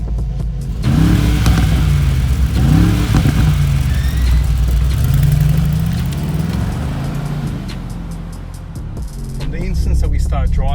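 A 2019 Mercedes-AMG G63 G-Wagon engine revs hard and rises in pitch as the SUV pulls away, then settles into a loud, steady drone with a second surge of revs near the end.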